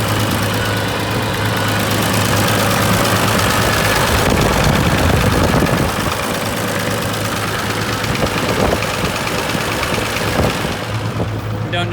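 A Farmall 706 tractor engine, not yet warmed up, idles loudly and continuously with a rough, knocking rumble throughout.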